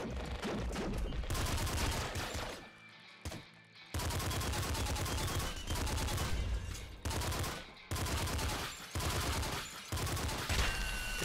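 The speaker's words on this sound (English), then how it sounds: "You can hear how much slower the gun's shooting from how many enemies spawn." Rapid bursts of gunfire from the smart gun in the game Nuclear Throne, a dense rattling fusillade continuing almost nonstop, broken by a few short pauses.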